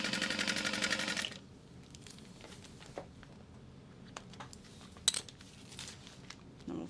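A sewing machine stitches clear vinyl in a quick, rapid-fire burst for about a second, then stops, leaving scattered light clicks and handling taps of the material and machine.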